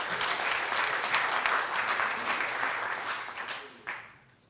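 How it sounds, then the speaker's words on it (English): An audience at a YouthBuild graduation ceremony applauds staff members on stage, a steady wash of clapping from a large crowd that holds for several seconds, then dips and swells briefly before fading out. "can we give a round of applause for the staff members on stage?"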